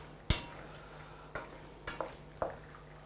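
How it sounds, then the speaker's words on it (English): A spoon stirs cooked pasta into a tomato and sausage sauce in a pan: a handful of sharp scraping clinks land at uneven intervals over a soft, quiet background, and no one speaks. "You are putting the sauce in the pasta. There we go. And that is it. Give a good mix."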